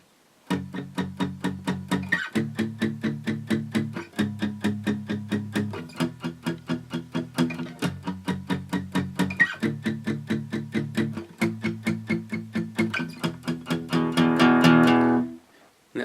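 Electric guitar chugs through the chord progression of a song, steady rhythmic palm-muted strums with distorted tone, played twice through and swelling into a louder sustained chord at the end, no talking.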